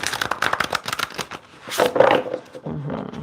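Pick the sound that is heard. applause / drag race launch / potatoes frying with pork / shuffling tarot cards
shuffling tarot cards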